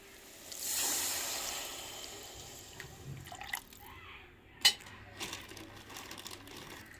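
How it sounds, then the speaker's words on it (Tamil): Ground tamarind liquid is poured into a pot of fish curry, a soft watery pour and splash followed by a sharp clink and some light dripping and stirring sounds, fairly quiet and close. "அரைச்சி வச்ச புளியும் சேர்த்துக்கிறோங்க"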